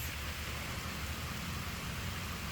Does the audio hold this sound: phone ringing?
no